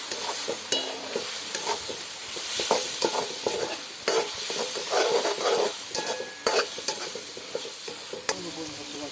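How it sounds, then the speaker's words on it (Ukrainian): Chinese-style spaghetti fries in a kazan while it is stirred, a steady sizzle broken by repeated scraping and clinking of the utensil against the pot, close and continuous. "Не забуваємо помішувати."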